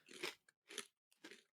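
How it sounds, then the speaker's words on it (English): Three sharp, close crunching bites into a crispy fried snack spiced with cinnamon, like a wonton or egg roll shell, each bite a short crackly burst separated by brief silence. "It's way crunchier than I expected."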